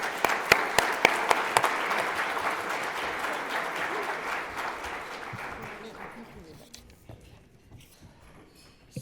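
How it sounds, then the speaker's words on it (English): A church congregation applauds at an anniversary celebration, a dense wash of clapping with a few sharper claps early on. It stays steady for several seconds, then thins and fades toward the end. "So I'd like you to give them an applause."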